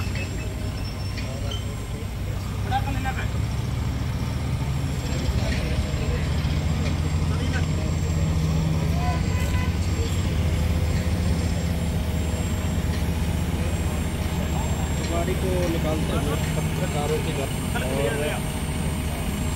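A crane truck's engine rumbles steadily and loudly while it lifts an accident-damaged car at a roadside, with people talking over the drone.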